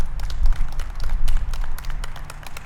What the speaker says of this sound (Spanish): Le damos un aplauso al Señor en este día.